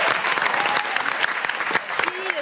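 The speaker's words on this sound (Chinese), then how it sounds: "掌声鼓励" A studio audience on a Taiwanese game show applauds steadily, with dense, bright clapping filling the room for a couple of seconds while voices talk over it.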